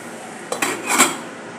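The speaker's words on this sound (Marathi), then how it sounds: "याला चार ते पाच मिनिटासाठी झाकण ठेवून शिजून घेऊया" A metal lid is set onto a cooking pan of sabudana khichdi, two quick clinks followed by a brighter ringing clank, close and alone.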